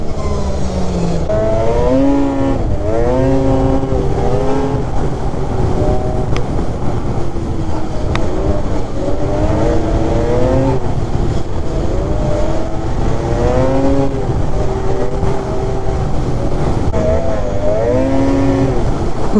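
A video game car engine cruising at partial throttle hums as a steady, loud drone, its pitch rising and falling in repeated short sweeps, with no talking.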